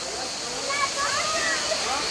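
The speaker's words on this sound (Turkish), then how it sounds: "Bugün Turgut Şelalesi'ndeyiz." Turgut waterfall at Selimiye near Marmaris pours in a steady, dense rushing roar that fills the whole stretch, with faint voices in the background.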